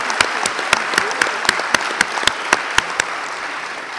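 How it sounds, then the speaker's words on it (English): Audience applause for Bob Stewart at a forum's closing session, heard as a steady bed of clapping punctuated by a slow, regular series of sharp, louder individual claps standing out near the front. "let us please give a round to Bob for doing such an amazing job here today"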